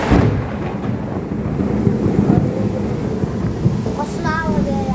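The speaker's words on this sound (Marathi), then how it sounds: "कसला आवाज आहे यार, लय म्हणजे लय जोरात पाऊस" Heavy rain pours down in strong gusting wind around buildings in a lane, a dense, loud, continuous roar with rumbling wind buffeting the microphone.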